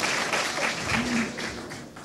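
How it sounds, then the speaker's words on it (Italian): Audience applauding at a mayoral candidates' debate in Bussolengo, a fairly soft swell of clapping that fades toward the end, with a voice briefly heard underneath. "Facciamo un applauso."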